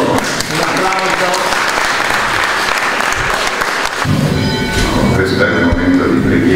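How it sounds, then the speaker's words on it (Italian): A crowd applauds at the inauguration of a Padre Pio statue, with dense, steady clapping that holds loud throughout and some voices mixed in. "Un applauso."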